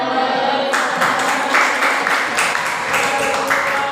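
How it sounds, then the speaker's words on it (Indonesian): Classroom applause after a student group's presentation, a roomful of people clapping steadily with some rhythmic, near-unison claps at a moderate level. "Ayo tepuk tangan."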